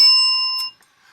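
A single bright ding from a handy little psychedelic bell rings out with a clear sustained tone, then fades into near silence.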